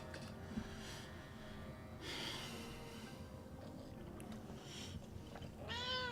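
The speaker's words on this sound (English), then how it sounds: "Kitty cats, man." A cat makes faint breathy snorts and huffs, then lets out a brief, soft meow at the very end, close but quiet.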